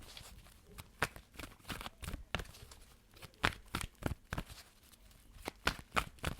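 Tarot cards being shuffled by hand, a run of sharp riffling bursts and soft papery slaps repeating irregularly, close and fairly quiet with no talking.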